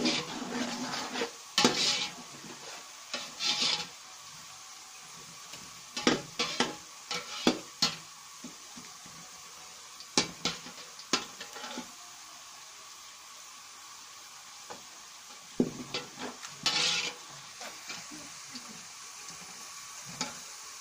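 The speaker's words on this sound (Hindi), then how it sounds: "अब हमारा हल्का प्याज ब्राउन हो गया है, थोड़ा सा और करेंगे।" Onions browning in a pan for vegetable pulao, a steady low sizzle broken by repeated scraping and stirring clatters, with occasional louder knocks of a utensil against the pan.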